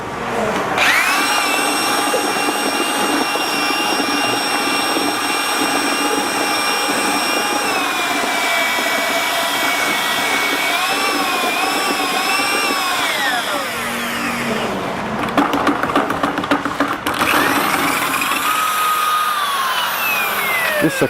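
A powerful drill churns colored stone coating in a bucket with a loud, continuous whine whose pitch sags under load, then stutters in rough bursts before revving back up.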